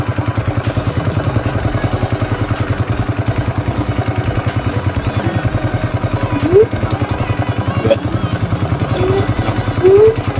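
A Yamaha Mio motorcycle engine runs with a steady rapid idle chug, giving a few short throttle blips near the end, loud and close with no voices.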